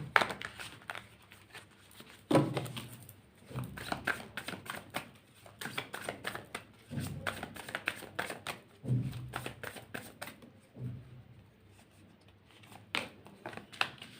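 Tarot cards being shuffled by hand in repeated quick riffling bursts with short pauses, close and fairly quiet, with no talking over them.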